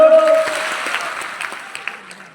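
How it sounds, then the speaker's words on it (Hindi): A live audience claps loudly in one burst, the applause tapering off over a couple of seconds. "मैं जब भी बोलूंगा आप एक बार ताली बजाएंगे"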